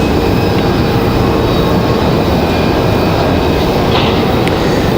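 An Endeavor Air passenger jet moves at Raleigh-Durham International Airport, giving a steady, loud broadband engine roar that holds constant throughout, with a faint whine on top and no talk.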